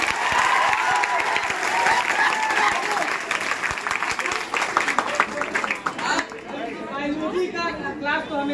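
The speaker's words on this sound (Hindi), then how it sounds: "सर के लिए एक बात ताली होनी चाहिए" Students at a coaching class clap for their teacher, a loud burst of crowd applause mixed with chatter that fades into scattered claps and murmuring voices as talking resumes.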